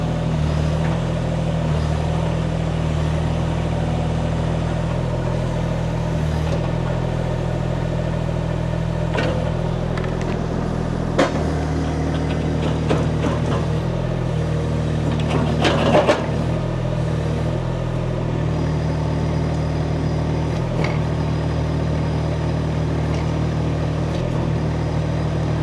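A 2.6-tonne mini excavator with retractable tracks and hydraulic pilot control runs steadily throughout, its engine a constant low drone with faint mechanical clatter and a brief louder surge near the middle.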